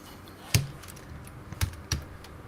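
A few sharp, isolated key taps on a computer keyboard, close by and sparse, with quiet pauses between them.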